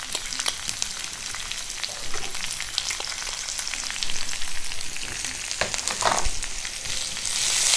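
Onion, ginger-garlic paste and curry leaves fry for dosa masala with a dense, crackling sizzle close by, spattering steadily and swelling a little louder toward the end, with a few stirring knocks.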